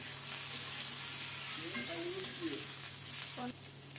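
Brinjal pieces go into a little oil tempered with black cumin and slit green chilies, raising a close, continuous sizzle with stirring scrapes and a few faint utensil clinks.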